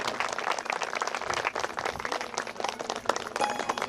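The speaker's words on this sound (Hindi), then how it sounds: "जोरदार से ताली बजाएंगे।" A crowd at a temple jagran for the Durga Mata claps in a dense, uneven patter, many hands slapping together at moderate distance, with no one speaking over it.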